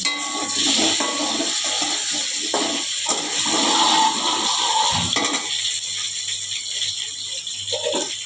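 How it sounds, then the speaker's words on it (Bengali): Potatoes fry in hot oil in a pot, a continuous broadband hiss that is loud at first and thins out later, with an occasional clink of utensils and no talking. "এবার এখানে আলুগুলো ভেজে দিচ্ছি"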